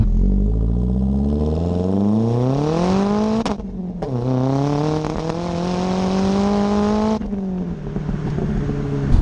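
A Ford Focus RS Mk1 hot hatch drives down a country B road, its engine climbing through the revs, briefly dropping off on two gear changes, then pulling steadily again, heard loud from inside the car.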